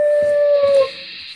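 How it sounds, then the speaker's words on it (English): A dog howls in a single sustained, steady wail lasting about a second, loud and close, with faint background noise underneath. "That's a dog."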